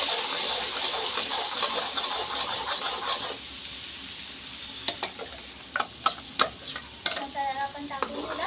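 Red chilli and ground masala fry in hot oil for a village-style masala fish curry, with a steady sizzle and hiss broken by several sharp clinks and scrapes as the spoon stirs the pan close by.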